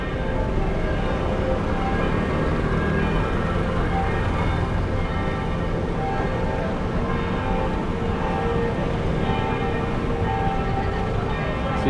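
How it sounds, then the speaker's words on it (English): Church bells in Manila, Philippines ring continuously in a dense, reverberant wash of tolling, steady and loud for the whole stretch with no talk. "So you can hear the bells."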